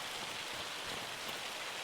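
Steady rain pours down in Farming Simulator 25, a dense, even hiss of drops with no talk over it.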